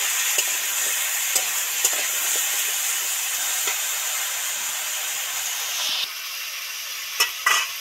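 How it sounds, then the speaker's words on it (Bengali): Vegetables with a pinch of salt frying in oil, a constant bright sizzle with occasional stirring clicks that suddenly thins and quiets near the end, followed by a few sharp knocks. "সবজিগুলো তো ভাজা ভাজা মতো হয়ে এসছে।"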